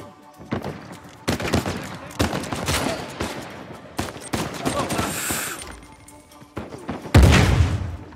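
Gunfire in Uncharted 4: repeated bursts of rapid shots and booming impacts in a firefight, loud and close, with a heavy blast near the end and someone speaking between volleys.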